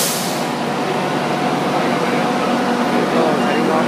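A fully loaded southbound passenger train departs in heavy rain, giving a steady, dense rumble blended with constant rain hiss that holds evenly throughout.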